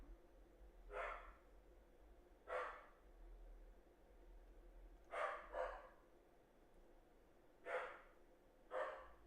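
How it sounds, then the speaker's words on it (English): A dog barks in single and doubled bursts, about six barks spread across the stretch at a moderate distance, in a quiet room with low background hum and no talking. "the dog's barking"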